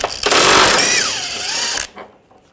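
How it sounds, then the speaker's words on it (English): Loud power-tool whir with a rising then falling pitch as an 18mm socket spins out a bolt on a front rearward lower control arm of a 2009-2017 Volkswagen, lasting under two seconds before cutting off to quiet. "Use an 18mm socket, take this bolt out"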